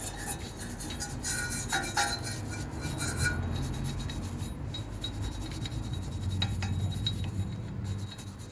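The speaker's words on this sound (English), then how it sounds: "we've just got the usual detritus, of which we will brush away" A brush scrubs loose dirt and grit off car brake parts during a disc replacement, making close, continuous raspy scratching and rubbing that swells and fades through the whole stretch.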